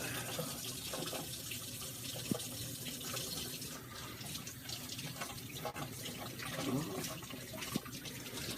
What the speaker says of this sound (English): you want to rinse your hands off